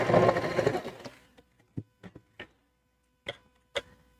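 A sewing machine stitching heavy fabric at stitch length 3 runs in a dense, loud burst for about a second, then trails off into a few sparse, sharp clicks and taps separated by quiet gaps.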